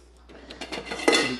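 A spoon is fetched from among dishes, with a few clinks and rattles of cutlery and kitchenware building to a brighter clatter near the end.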